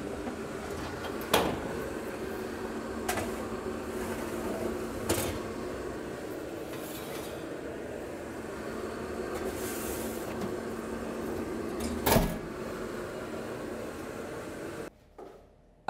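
A risen gluten-free bread loaf is put into the oven, with a few scattered clunks and knocks from the oven door and tin over a quiet steady hum.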